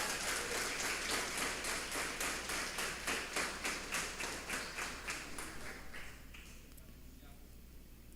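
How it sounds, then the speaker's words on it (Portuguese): A church congregation claps in rhythmic unison, loud regular beats that gradually thin out and fade, with low music holding underneath. "Pode aplaudir Jesus."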